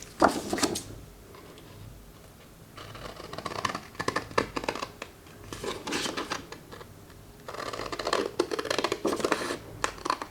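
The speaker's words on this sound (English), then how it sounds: "And now I'll just use scissors." Close scissors snipping through paper in repeated bursts, with crinkling and handling noises between cuts.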